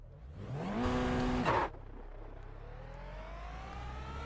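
A race car engine in iRacing's IMSA series at Sebring screams up through the gears nearby, then cuts sharply and gives way to a lower, steady drone as the car rises in pitch again.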